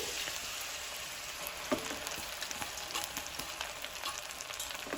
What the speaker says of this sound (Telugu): ఇప్పుడు ఈ గోంగూరని ఆయిల్లో వేసుకోవాలి